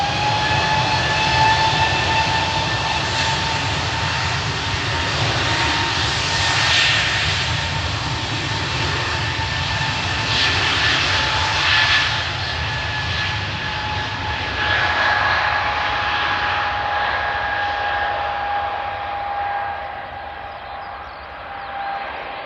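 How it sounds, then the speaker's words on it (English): A passenger jet taking off at Glasgow Airport, a loud sustained engine roar with a whining tonal hum that holds steady for over twenty seconds and then slowly fades as the plane climbs away. "It's a quicker takeoff than the Jet 2 plane."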